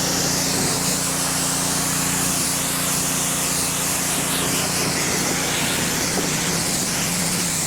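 A pressure washer fitted with a short wand and white nozzle rinses wax and foam off a tractor, a loud, steady hissing spray with an engine-like hum running close and unbroken throughout.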